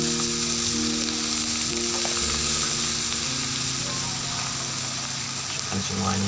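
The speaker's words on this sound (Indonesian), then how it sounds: "Kalau sudah, masukkan ini nangka mudanya tadi ya" Young jackfruit drops into a hot pan for a stir-fry and fries with a loud, dense, continuous sizzle close by, with a few clinks of a utensil and a low background hum.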